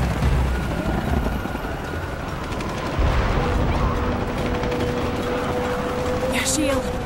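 Helicopters in the video game Shadow of the Tomb Raider give a steady whirring drone under game combat noise, with rapid mechanical chatter, distant gunfire-like bursts and faint radio-style voices throughout.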